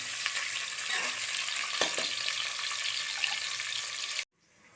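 Chopped garlic frying in a pan for Kongu-style rice and dal, a dense, steady hiss of sizzling oil with a few faint stirring clicks, cutting off abruptly near the end.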